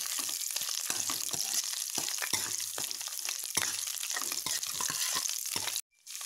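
Dried red chillies and urad dal roasting in hot oil in a pan, a dense crackling sizzle heard up close throughout with scattered stirring clicks, then a sudden brief drop before it resumes.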